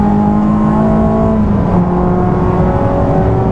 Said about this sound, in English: I'm going to start bringing the speed up a bit more